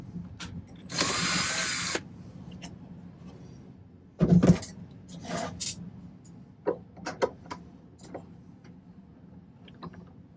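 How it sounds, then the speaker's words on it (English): A small power drill runs in a short high whine, then slowly works through a silver pendant at a jeweler's bench, with brief bursts of drilling, light clicks and handling noises between quiet pauses. "I'm just going to kind of slowly drill through here."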